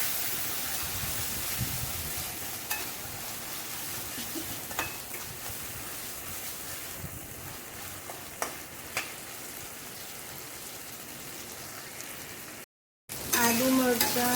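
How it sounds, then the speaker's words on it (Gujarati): Crushed ginger and green chilies sauté in hot oil in a pan for a green corn chevdo, a long, steady, close frying sizzle with occasional spatula scrapes, broken by a short silence near the end. "હવે બધું આપણે સરસ કરીને સાંતળી લેવાનું છે"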